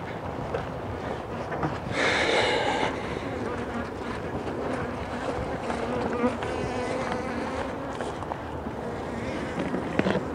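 Honeybees buzzing steadily as a hive that has lost its colony to starvation is opened, a continuous close drone with a louder swell near the start, with no talk over it.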